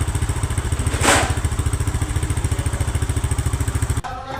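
A Benelli RFS150i motorcycle engine idles steadily with a fast, even thumping pulse, loud and close, with no talking, cutting off abruptly near the end.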